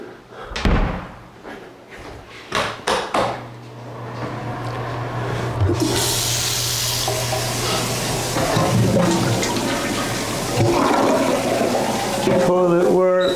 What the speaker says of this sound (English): Toilet works,